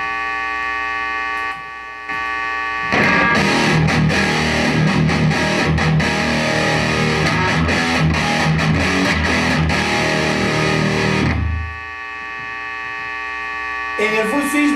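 An electric guitar plays through the distortion channel of a Dime Amp 100-watt combo, with a loud, buzzing, saturated tone held for about nine seconds before it cuts off, leaving amp hum.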